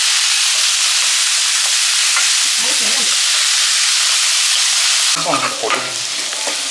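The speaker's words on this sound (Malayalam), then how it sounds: "സവോള ഉള്ളി അങ്ങനത്തെ എല്ലാ സാധനങ്ങളും നല്ല അടിപൊളിയായിട്ട് വഴണ്ട് വന്നിട്ടുണ്ട്" Onions and spices sautéing in a pan for a Kerala-style squid roast, a continuous loud sizzle with stirring scrapes, the texture shifting near the end as the pan is moved.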